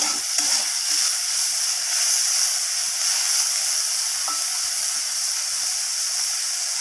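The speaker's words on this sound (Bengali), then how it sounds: "এরপর আমি উচ্ছেগুলোকে ঢ্যাঁড়সের মতোই করে লাল লাল করে একটু ভেজে নেব" Bitter gourd pieces fry in hot oil in a pan, giving a steady, close sizzle that holds level and unbroken from start to finish with no talk over it.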